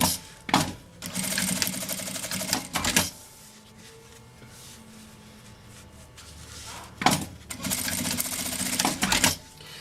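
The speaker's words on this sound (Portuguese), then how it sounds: "passo uma costurinha" A sewing machine stitches a strap onto a travel vanity bag in two rapid runs, loud and close, separated by a quieter pause with small handling knocks.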